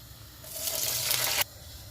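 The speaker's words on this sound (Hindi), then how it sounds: "1 मिनट के बाद इसमें हम पानी डाल देंगे जितने में हमारे चावल गल जाए।" Water pours steadily into a cooking pot of fried spices for rice, a close, continuous gushing splash lasting about a second before it stops abruptly, with no voices.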